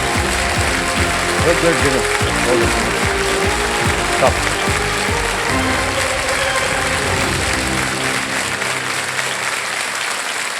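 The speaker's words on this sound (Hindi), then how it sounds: "तो एक बार फिर जोरदार तालियां किरण जी के लिए।" Sustained studio audience applause on the KBC quiz show set, dense and steady throughout, with a host's voice briefly over it before the clapping thins near the end.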